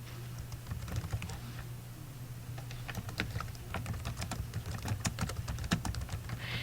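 Typing on a computer keyboard while composing text in a presentation program, a steady run of quick, light key clicks up close over a constant low electrical hum, with no talking.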